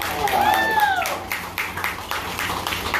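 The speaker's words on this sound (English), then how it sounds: "Give us folks a big round of applause." Passengers aboard a scenic railway excursion train in Branson, Missouri, applauding veterans: a burst of scattered clapping from a crowd, mixed with a voice over a loudspeaker and other talk.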